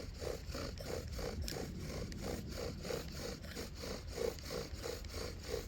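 A wooden bow drill spins against a fireboard for friction fire, giving a steady rhythmic rasping and squeaking with a regular back-and-forth pulse, quiet and continuous with no talk.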